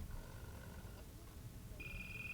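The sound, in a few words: telephone ringing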